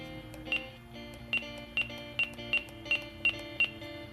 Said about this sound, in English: That's the beep.